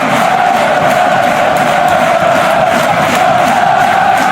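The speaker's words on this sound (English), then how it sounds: "And Fatawu takes the applause of the King Power Stadium." Packed football stadium crowd at King Power Stadium roaring and applauding after a goal, a loud, dense, continuous wall of cheering with no break.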